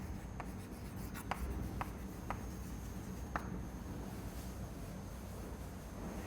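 Chalk or marker writing on a board in a lecture room, several short faint scratching strokes in a quick irregular sequence, then quiet room tone with no talking.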